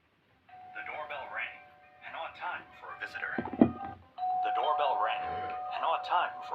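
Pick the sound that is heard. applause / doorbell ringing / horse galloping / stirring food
doorbell ringing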